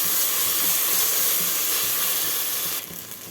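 Onion with two big spoons of ginger garlic paste sautéing in a pan for a goat tripe curry, a steady close sizzle and hiss running throughout with occasional stirring clatter, easing off slightly at the end.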